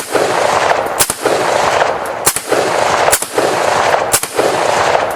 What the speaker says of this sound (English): I do, however, have this Mini 14, so we're going to go ahead and send some lead down range here